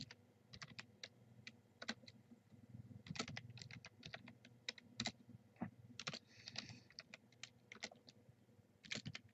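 Typing on a computer keyboard comes through as quick, irregular bursts of crisp key clicks with short pauses between runs, fairly close and without talk.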